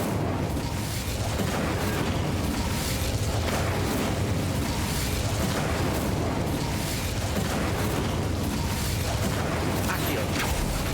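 The Incendio fire spell cast in the Hogwarts Legacy video game, a continuous loud roaring, crackling burst of flame that fills the whole stretch with dense, rumbling noise and no pause.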